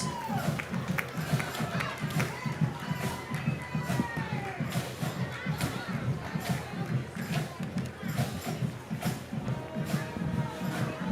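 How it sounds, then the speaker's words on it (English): A stadium crowd at a high school varsity football game cheers and claps for the senior class on senior night: a continuous, roaring, pulsing mass of noise with voices throughout and scattered shouts. "one more round of applause for the senior class of"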